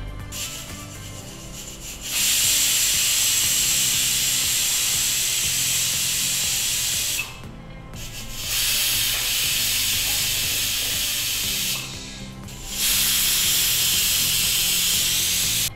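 A pressure cooker on a home stove vents steam while cooking jackfruit dosa batter, giving a loud, steady hiss that cuts out twice for about a second before surging back, with no talking.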